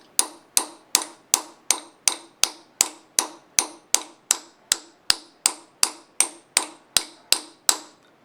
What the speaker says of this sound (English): you don't hit it hard, you just tap it a few times, but you rotate the bit around